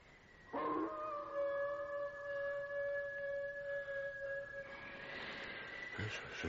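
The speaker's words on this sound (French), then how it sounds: "Ils disent que c'est le cri du chien des Baskerville." A dog howls at night on a moonlit moor, one long mournful wavering cry sustained for several seconds at a distance with no talk, then fading into quiet rustling.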